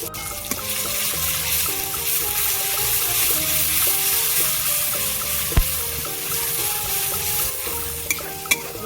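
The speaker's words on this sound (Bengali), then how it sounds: "রসুন দিয়ে আমি ভালো করে ভেজে নিয়েছি" Garlic paste frying in hot oil in a pan, a continuous close sizzle with stirring scrapes and a couple of sharp utensil knocks, no talking.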